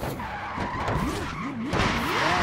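A car drifting in the racing game Forza Horizon 4, tires squealing in wavering, rising and falling skids over a continuous engine roar.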